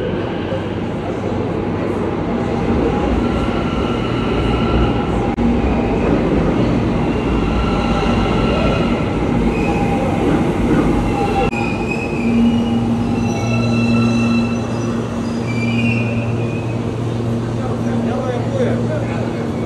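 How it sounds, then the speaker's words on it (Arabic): A train pulling into a station platform, a steady loud rumble of rolling wagons with squealing wheels and metallic screeches, carrying on under nearby chatter from people waiting. "وصل القطار، وصل."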